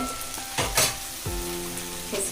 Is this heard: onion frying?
yes